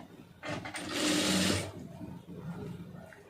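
A sewing machine stitches puff sleeve fabric in one loud, close burst of rapid whirring of about a second, then stops, leaving quieter handling noise.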